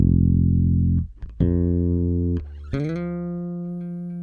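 Electric bass plucks a repeated F in several sustained notes with short gaps between them, close and bright with strong upper harmonics, heard alone.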